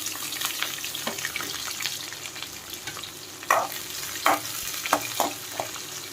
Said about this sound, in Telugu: ఫ్రై చేసుకోవాలి దీన్ని.